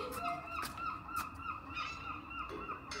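Geese honk repeatedly and loudly nearby, a steady run of overlapping calls with no talking.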